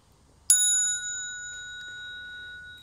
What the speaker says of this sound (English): I've got my bell.